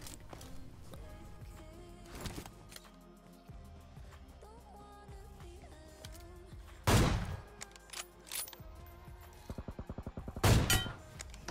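Gunfire in the BGMI (PUBG Mobile) battle royale game, with shots coming from a hillside: sharp loud bursts and rapid automatic volleys crack out over a busy game soundscape, several separate clusters spread across the stretch.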